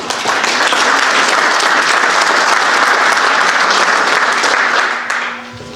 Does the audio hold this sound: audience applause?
yes